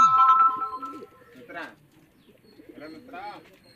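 A male pigeon gives a few soft, close coos among faint background sounds, with someone talking over parts of it.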